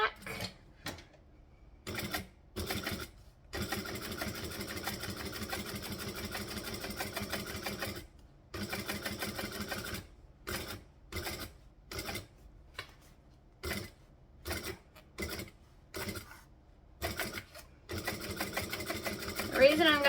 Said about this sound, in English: I'm going to stitch the pocket down back through the same stitching from earlier.